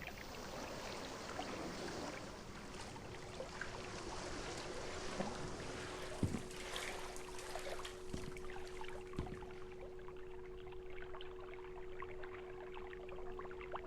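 Simulated water in the Liminalcore demo video game laps and sloshes softly in a continuous low wash, with a faint steady electrical hum beneath it, quiet and unbroken, and no talking.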